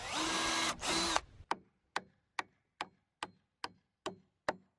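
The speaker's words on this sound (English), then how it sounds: "I'm just going to be using an 1/8 inch drill bit to go into my rail here" Power drill fitted with a 1/8 inch bit boring into a wooden rail, a short loud whine over about a second, then a run of evenly spaced sharp ticks close by.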